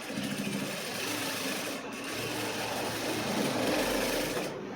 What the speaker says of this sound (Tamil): இப்படி தைச்சிக்கிட்டு அப்படியே திருப்பிங்க பாருங்கள், படிமான தையல் போட்டுருங்க.